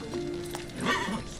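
Horse hooves clatter in the Witcher 3 video game, quick clip-clop beats with a short whinny-like tone, fairly faint and brief, mixed with some soft game ambience.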